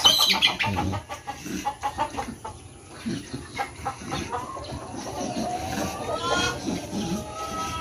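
Rhode Island Red chickens cluck in short, repeated bursts close by on a farm, several birds overlapping in an uneven rhythm over a quiet outdoor background.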